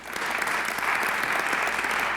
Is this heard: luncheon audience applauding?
yes